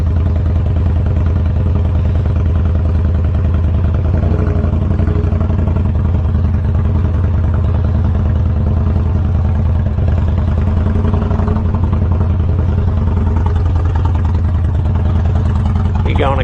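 An oil-cooled motorcycle engine runs steadily throughout a ride, a loud continuous droning hum with a little clatter and wind rush.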